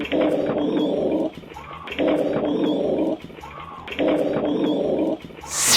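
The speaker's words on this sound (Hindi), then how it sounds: "अगली वीडियो में आपको एक कुत्ता दो आदमियों की दौड़ें लगवाता हुआ नजर आएगा" A dog growls and barks in repeated loud bursts, about every two seconds, while chasing two men, caught on a CCTV camera, with no talk over it.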